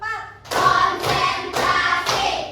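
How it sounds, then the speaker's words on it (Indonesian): Children clap their hands in unison to a count, four crisp, loud claps spaced roughly half a second apart, with no voices over them. "Tepuk 1, tepuk 2, tepuk 3"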